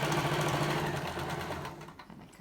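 An overlock sewing machine runs steadily while locking the seam of a pyjama, a quiet, even mechanical whir that eases off slightly near the end.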